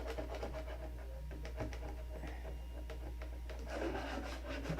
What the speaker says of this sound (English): I just took some 2000 grit sandpaper and sanded it off.